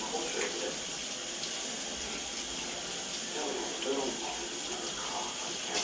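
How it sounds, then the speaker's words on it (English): Running tap water rinsing fingertips at a sink, a steady broadband hiss of flowing water that continues unbroken and close. "I'm going to wash my fingertips."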